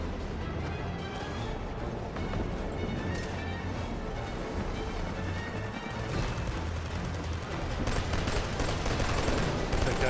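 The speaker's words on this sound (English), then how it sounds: "The MG turret." A machine gun turret in Killzone 2 fires continuously in a dense, loud rattling stream, layered with other gunfire and battle crashes for the whole stretch.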